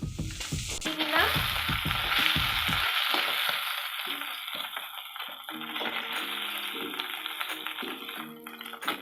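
Chapila fish sizzle and crackle loudly in hot oil in a wok, with clattering utensil stirs at first before the frying settles into a continuous hiss.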